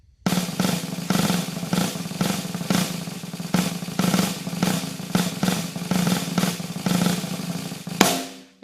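A snare drum plays a syncopation exercise as buzz rolls, dense sustained rolled notes in an accented rhythmic pattern, close and loud, ending with a sharp final hit.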